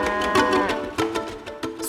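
A dairy cow lowing, a short run of deep, rough moos with a couple of brief breaks, close and fairly loud with no other sounds.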